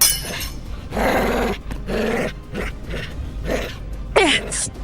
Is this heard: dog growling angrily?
yes